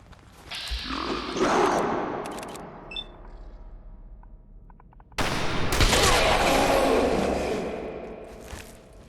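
Gunfire in Fallout 4 during a frozen survival run: two sharp, loud shot bursts, one near the start and another about halfway, each trailing into a long rumbling echo, with no talking.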